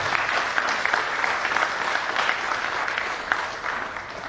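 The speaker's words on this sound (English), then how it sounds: "So clap for all of us" Steady applause from a conference audience at a CEO conclave, a dense wash of many hands clapping at moderate loudness without interruption, no speech over it.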